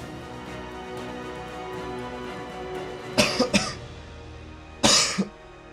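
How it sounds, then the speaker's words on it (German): A few close coughs from someone with their head turned away and a hand over the microphone: a quick cluster of three sharp coughs, then a pause and one more, fairly loud against a quiet background. "Und trotzdem hört man das Husten."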